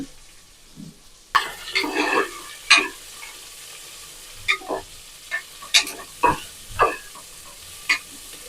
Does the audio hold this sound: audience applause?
no